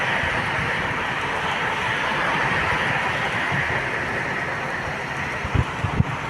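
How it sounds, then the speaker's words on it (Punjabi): A metro train rushes past nearby with a steady broadband roar, a couple of low thumps near the end. "ਨਾਲ ਨਾਲ ਮੈਟਰੋ ਜਾ ਰਹੀ ਹੈ ਜੀ"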